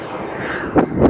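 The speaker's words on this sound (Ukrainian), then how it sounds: "І знову літак пішов." A steady distant drone of an Alaska Airlines plane overhead on the Pacific coast, with wind rumble, joined near the end by two brief louder whooshing bursts.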